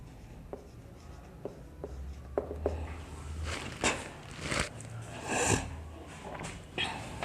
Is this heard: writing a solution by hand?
yes